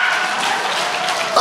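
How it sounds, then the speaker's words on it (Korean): Church congregation clapping hands during a Sunday service, a dense continuous wash of many hands applauding close and loud for a brief moment, ending with a sharp raised shout. "박수 쳐!"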